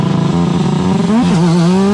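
A Can-Am Turbo RR side-by-side with a manual sequential gearbox revs hard on sand dunes, its engine note climbing, dipping briefly at a quick gear change, then pulling strongly again, loud and close throughout with no speech.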